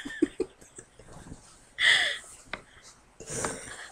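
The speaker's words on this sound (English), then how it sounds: "I have a really nasty cough right now." A few short rough coughs and throaty breaths near the mic, ending in a harsher, longer cough burst.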